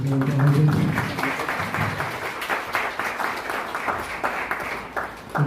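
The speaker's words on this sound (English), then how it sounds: "Can we get a big round of applause for Derry?" A crowd at a peace forum in Derry, Ireland applauds, dense clapping swelling loudly at first then settling into steady applause that continues to the end.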